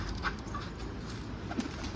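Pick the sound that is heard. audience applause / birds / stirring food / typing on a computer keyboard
birds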